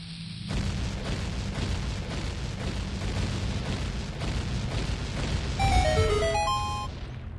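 Repeated explosions and booming blasts inside Dodongo's Cavern in a Zelda video game, a dense rumbling barrage with thuds throughout, ending with bright chiming pickup tones.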